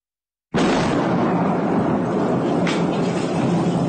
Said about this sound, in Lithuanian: Štai koks galingas sprogimas prieš 23 valandą sudrebina Kyjevą.